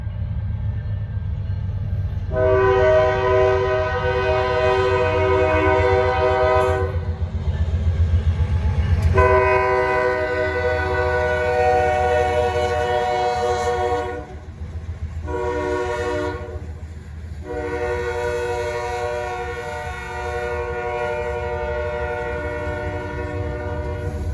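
A Norfolk Southern freight train passes with sustained, loud horn blasts in long held tones, broken by short gaps, over a steady rumble of rolling railcars.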